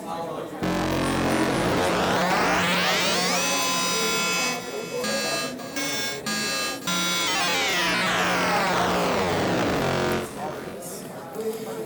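Media Overkill Wave Razor synthesizer playing a mutant AM patch, a loud, dense buzzing tone with rising and falling harmonic sweeps and stuttering rhythmic gaps in the middle, continuous for about eleven seconds.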